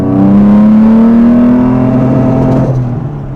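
A restored Jaguar E-Type engine revs hard up to its 4,500 rpm rev limiter. The loud, close, smooth straight-line roar climbs steadily in pitch, holds near the top, then eases off.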